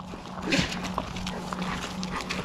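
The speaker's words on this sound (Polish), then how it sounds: "Ona tylko kichnęła." A dog sneezes during an outdoor walk, a quick, sharp snort standing out over a low steady hum and faint background noise.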